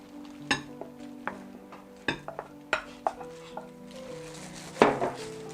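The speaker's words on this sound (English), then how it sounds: "Mix." Banana bread batter made from banana and whipped egg white is stirred in a bowl, with scattered clinks and scrapes of a utensil against the bowl, close and fairly quiet.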